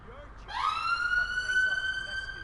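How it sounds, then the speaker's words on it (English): A police siren in the video game GTA 5 sweeps upward and then holds a steady, clear wail at moderate volume, with a faint background murmur beneath it. "Little siren. Little emergency in Edinburgh."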